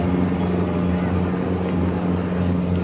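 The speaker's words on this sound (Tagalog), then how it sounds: "Yung bangka." A motorboat's engine drones steadily on the water off Navotas Centennial Park, a low continuous rumble filling the scene without a break.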